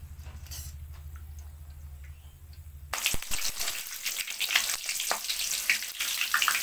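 Mixed vegetables with paneer sizzle loudly in hot oil, the frying starting abruptly after a few seconds of low humming background and then crackling steadily and densely to the end, with no talk.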